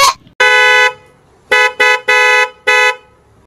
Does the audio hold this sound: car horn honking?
yes